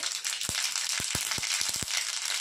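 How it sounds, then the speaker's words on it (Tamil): Mustard seeds spluttering in hot oil in a pan on a home stove: scattered sharp pops and crackles, about eight distinct bursts, close up over a constant loud frying hiss, with no voices. "இப்போ எண்ணெய் காய்ச்சி கடுகு போட்டுக்கிறேன்"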